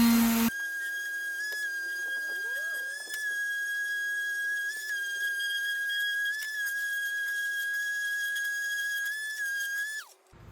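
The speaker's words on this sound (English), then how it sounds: "I have an electric sander with a 220 value, which is just a really, really smooth, fine grain value." An electric sander loaded with fine 220-grit paper works over a wooden frame, a steady high whine that holds for about ten seconds with small pitch wobbles before cutting off at the end.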